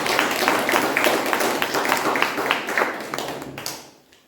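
An audience at a club installation ceremony gives a dense burst of clapping for an outgoing sergeant-at-arms, busy and close at first, then thinning and fading away at the end.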